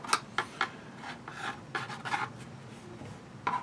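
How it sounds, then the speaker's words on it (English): A prop Y-wing helmet has its fresh paint scratched up in short, close scraping strokes. The scrapes come in irregular bursts with quiet gaps between them, and no one speaks. "I'm going to go ahead and start scratching this helmet up a little bit."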